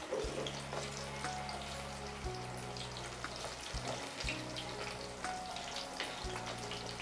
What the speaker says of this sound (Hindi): चलिए अब हम इसे फ्राई कर लेते हैं।